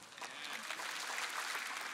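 A church audience applauding during a sermon, steady dense clapping at moderate distance, fairly quiet and unbroken for about two seconds.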